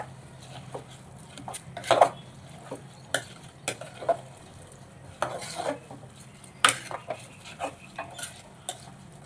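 Washed, soaked rice being stirred inside a pressure cooker for a vegetable pulao: irregular scraping strokes and metallic clinks of a spoon against the pot, close up over a quiet background, with no speech.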